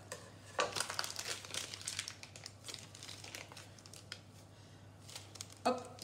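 A plastic piping bag rustles and crinkles close by as its tip is snipped off with scissors, with soft handling noises and a sharper crinkle near the end.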